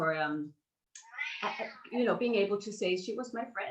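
A pet cat meows during a video call, a drawn-out cry near the start followed by a pause, then someone talks over the remaining seconds.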